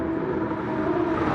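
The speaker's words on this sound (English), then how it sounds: "You can tell from the sound, that's Nismo." Nismo race car engine in Gran Turismo 7, running at the Nürburgring Nordschleife, gives a steady, continuous droning roar with a sustained tonal hum, unbroken for the whole moment.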